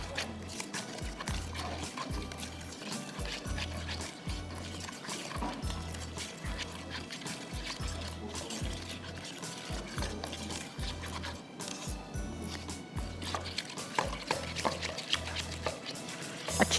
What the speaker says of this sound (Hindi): इसको आप पानी से अच्छी तरह मिक्स कर दीजिए।